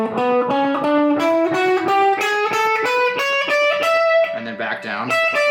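Distorted electric guitar runs a rising country scale pattern across the strings, a quick string of separate picked notes climbing steadily in pitch, loud and close with no talking.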